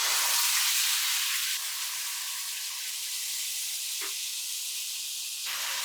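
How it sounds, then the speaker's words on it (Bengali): Onion paste sizzles steadily in about three tablespoons of hot oil left over from frying fish, giving a close, continuous hiss that shifts slightly midway, with no voices over it. "আদা, রসুন এবং পেঁয়াজ বাটাটাকে একটু ভেজে নিলাম।"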